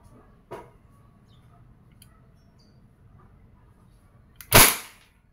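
Umarex M92A1 CO2-powered air pistol firing 4.5mm steel BBs: two sharp pops, a softer one early and a louder, crisper one near the end, each standing alone against a quiet background.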